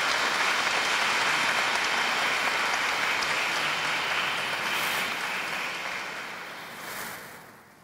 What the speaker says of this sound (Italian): Un applauso a Giambattista.